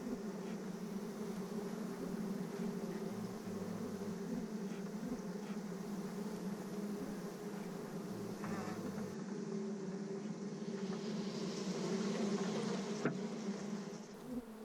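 Honey bees fly around an opened hive, giving a steady, droning buzz that holds at the same level throughout, close by and continuous, with no voices heard.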